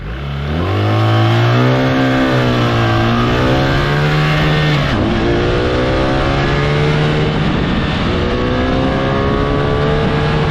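A BMW R1300 GS motorcycle engine revs up loudly and holds a high pitch, drops off, then climbs again in a second strong rev.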